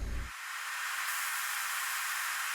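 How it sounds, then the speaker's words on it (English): In a trance track, a white noise sweep hisses in as a broad wash that brightens and swells over a couple of seconds, after a short low thump at the start, alone and loud. "So I added this little white noise sweep."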